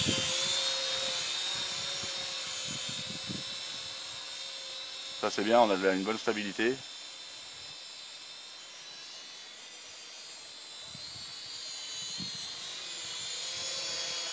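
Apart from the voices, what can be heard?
quadcopter drone flying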